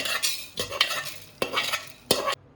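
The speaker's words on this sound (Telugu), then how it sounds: "మెంతులు ధనియాలు వేసి వేయించుకుందాం." Fenugreek and coriander seeds dry-roast in a pan, stirred with a utensil in a few distinct scraping strokes with a light crackle between, close and without talk.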